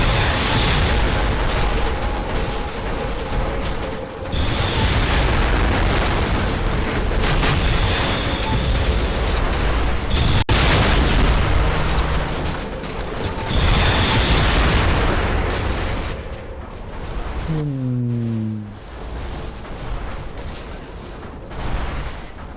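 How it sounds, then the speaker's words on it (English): Heavy rocket blasts and collapsing debris rumble from a Red Faction: Guerrilla battle on PS3, loud and dense, with booming explosions layered almost continuously and a brief descending mechanical whine near the end. "Even just those little fucking rockets that I can use, I can still do good enough damage around here"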